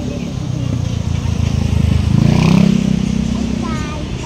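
A motorcycle engine runs nearby in a steady, rumbling idle that swells slightly as if revving, with people talking over it throughout.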